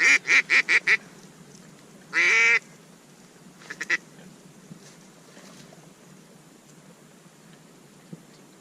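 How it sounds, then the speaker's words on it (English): Ducks quack in a quick series of four calls, then a longer honking burst, followed by a few faint distant quacks against quiet outdoor background. "those are fucking ducks"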